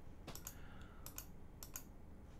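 Computer keyboard keys are pressed for shortcuts on a Linux Mint Cinnamon system: faint, close clicks in three quick pairs, evenly spaced, over quiet room hiss.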